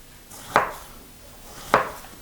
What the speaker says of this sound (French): On va venir découper des fruits